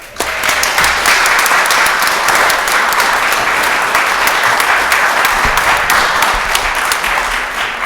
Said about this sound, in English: For that, y'all should clap.